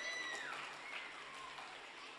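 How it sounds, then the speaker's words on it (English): Parents clapping at a school annual day prize distribution, a soft, distant, continuous patter of applause heard from across a hall, with faint tonal sounds drifting over it. "Parents, clap."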